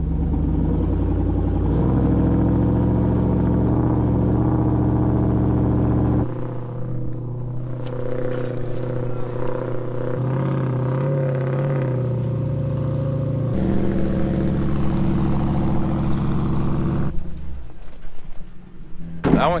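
Ford Bronco engine rumbling and revving at half throttle, loud and steady with shifts in pitch, while people talk faintly over it.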